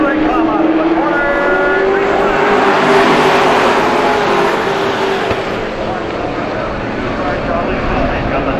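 Race cars coming out of a corner at a racetrack in a continuous loud engine roar with a rising tonal whine, while an announcer talks over the noise.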